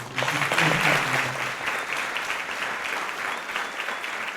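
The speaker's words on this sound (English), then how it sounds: "just one more round of applause" Audience applause after a speaker thanks an organizer at a group music performance, a dense steady patter of many hands that swells at first, then settles into a slightly softer sustained clapping.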